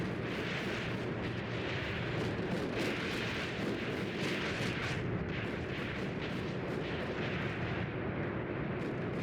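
Explosions and artillery fire in a tank warfare video game set in Tunisia in 1943, a dense, continuous, loud rumbling barrage of booms and blasts with no clear gaps.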